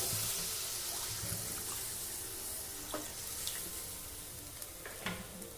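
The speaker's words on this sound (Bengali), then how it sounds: "এবার দিয়ে দেব 1 কাপ জল।" A cup of water poured into a hot cooking pan with turmeric, a brief hissing splash over steady sizzling and bubbling, followed by a few light utensil clinks, without any voices.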